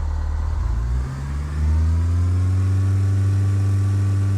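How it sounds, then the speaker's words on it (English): In Flight Simulator 2004, an aircraft engine is pushed to full throttle for takeoff: a loud steady drone dips briefly, then swells to a stronger sustained roar, with no talking. "apply full power with the throttle or by pressing F4"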